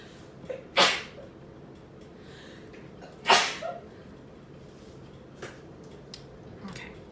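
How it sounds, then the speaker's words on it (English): A person sneezes twice during a relaxed coloring session, two sharp bursts a few seconds apart with quiet background noise and small handling sounds between them. "Pardon, I've got to sneeze."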